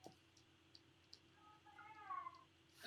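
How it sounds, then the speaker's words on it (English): A faint cat meow rises and falls once in a quiet room, heard over low background hiss and a few soft clicks. "I hear the cat."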